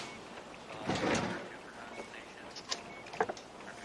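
A drawer slides open indoors with a soft scraping rush lasting about half a second, followed by a few faint knocks and clicks in an otherwise quiet room.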